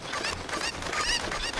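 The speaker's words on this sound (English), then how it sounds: "Chickens are actually pretty fun to mess with" Chickens in The Legend of Zelda: Ocarina of Time give loud, dense, high-pitched squawking clucks in quick succession, a busy flurry of game bird cries with no pauses.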